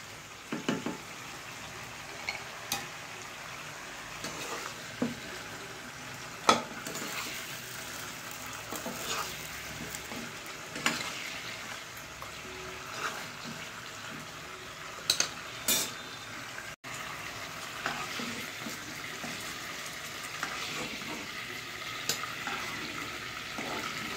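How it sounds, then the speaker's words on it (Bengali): Quiet, continuous frying sizzle of chicken in a pan, with intermittent clinks and scrapes of a utensil stirring. "মাংসটা আমার মোটামুটি ভাজা ভাজা হয়ে গেছে"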